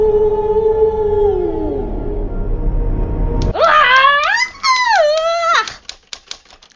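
A woman in an audio drama lets out a loud, shrill scream that rises, wavers and cuts off after a few seconds, following a low droning background.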